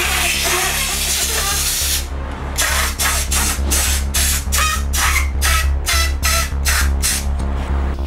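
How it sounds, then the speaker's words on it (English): An air compressor nozzle blows air into a scooter handlebar grip, a loud continuous hiss followed by a rapid series of short, regular bursts, close and without speech. "And when you turn it on, it's basically gonna put air all throughout the grip and you're just gonna just slide the grip on."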